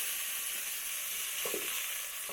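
Spring onions sizzle and fry in hot oil in an African village kitchen, a steady bright hiss with a few soft scrapes as they are stirred.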